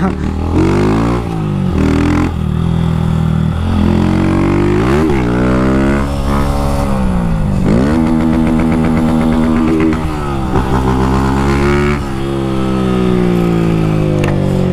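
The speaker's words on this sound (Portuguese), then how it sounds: "Barulho desse escape é bom demais" A motorcycle exhaust revs up close in a run of quick throttle blips and longer rising pulls over a loud, rough idle, with a few voices faintly underneath.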